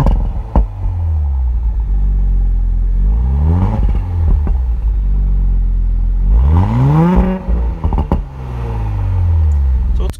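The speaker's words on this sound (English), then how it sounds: "So why don't we get a little rev time from outside?" A 2018 Audi S4 engine heard from outside the car, idling and then revving in several rising and falling pulls, loud and close, with a brief murmur from a person.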